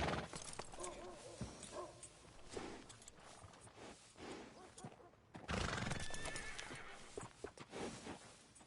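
A horse in the video game Red Dead Redemption 2 whinnies and neighs repeatedly while its hooves clop, close and fairly loud, over low background sound.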